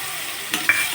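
Chopped tomato with fennel seeds, ajwain and turmeric sautés in a pan for tomato zunka, a bright continuous sizzle with a couple of quick spoon scrapes, close and without talk.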